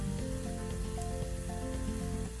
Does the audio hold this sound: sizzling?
yes